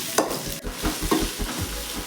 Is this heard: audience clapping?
no